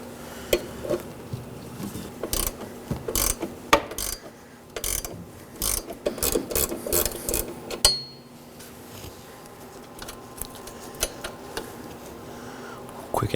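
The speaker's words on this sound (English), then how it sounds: "Now for the bottom bolts, I'll be using a 12mm box end wrench." Repeated metallic clicks and ratcheting clatter from a 12mm box end wrench loosening the hood hinge bolts on a 2013-2019 Nissan Sentra, coming in irregular close bursts with brief pauses between them and no talk.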